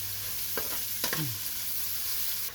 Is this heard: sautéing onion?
yes